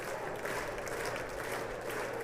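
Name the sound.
audience applauding at State of the Union address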